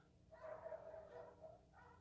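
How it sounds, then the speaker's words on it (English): Dogs bark faintly from a distance, a brief muffled burst of yapping that rises and fades within about a second over a quiet room hum. "I'm so sorry about those dogs."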